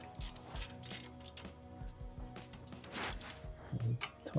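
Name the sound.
ratchet wrench tightening 17mm brake bolts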